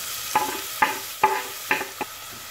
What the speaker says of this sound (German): Schwitzen Knoblauch und Zwiebel nun etwas an.